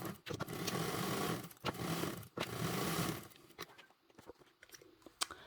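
A sewing machine runs close by, stitching a quarter-inch seam through fabric for a bottle crossbody bag in bursts of steady whirring, with short pauses and then lighter taps and clicks.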